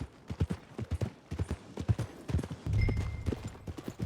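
Horse hooves clip-clop at a steady walking rhythm in Red Dead Redemption 2, close and clear, with a brief snort or rumble partway through.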